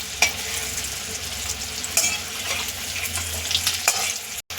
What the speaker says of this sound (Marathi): आता आपलं तेल व्यवस्थित गरम झालेलं आहे आपण हे व्यवस्थित सोडून द्यायचं तेलामध्ये